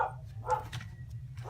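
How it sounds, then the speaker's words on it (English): A dog barks a few times in a home crafting workspace, the short yaps sitting moderately distant over a steady low electrical hum. "There goes my dog."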